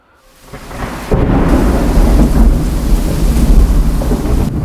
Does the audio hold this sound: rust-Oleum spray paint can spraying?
no